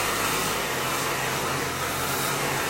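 A hair dryer blows continuously at close range, a loud steady rushing roar of air with no voices.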